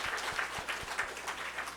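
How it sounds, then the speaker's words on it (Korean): Congregation applause during a Sunday worship service at a church, a short, fairly faint patter of clapping with a few distinct claps standing out in a loose rhythm. "우리 박수 한번 쳐주겠습니다"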